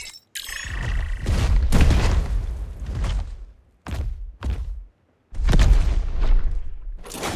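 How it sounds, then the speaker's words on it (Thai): Video game car exploding after being punched, a string of heavy booming blasts and thuds in bursts with brief silences between, loud and close. "เราต่อยแรงเกิน รถระเบิดเลย"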